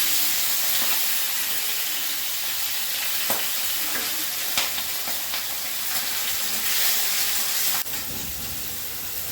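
Prawns hit hot oil already flavored with dried red chillies, bay leaf and black cumin, setting off a loud, steady sizzle with hissing and a few clinks of stirring, no voice over it.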